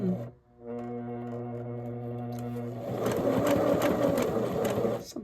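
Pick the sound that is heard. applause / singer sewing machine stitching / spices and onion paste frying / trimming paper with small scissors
singer sewing machine stitching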